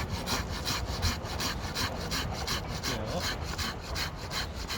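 Steady back-and-forth sawing through a piece of discarded reddish wood, cut by hand for making a wooden ring, with continuous rasping strokes close up and no talking.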